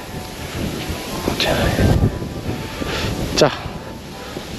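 Outdoor wind gusts buffet the microphone on farmland by a country road, a steady rushing roar swelling and easing under a man's brief spoken words.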